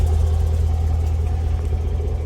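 Jaguar F-Pace SVR idling with its exhaust valves open, a steady deep low rumble held at an even level throughout, close and fairly loud with no voices.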